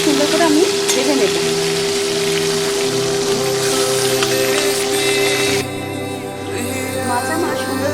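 Pieces of bhola fish sizzle and crackle steadily as they fry in hot mustard oil in a pan, a loud, continuous spitting hiss with no talk over it.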